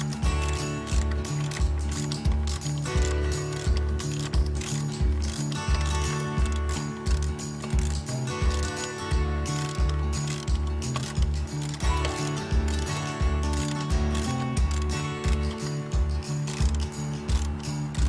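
Ratchet and socket tightening 15 mm engine mount bolts on a Toyota Camry, giving a long run of rapid, even clicking strokes up close with no talk.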